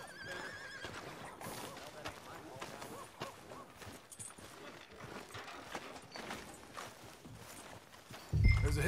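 Within a video game, a horse whinnies and its hooves clip-clop along a street, steady and mid-distance, mixed with ambient game sounds and some voices.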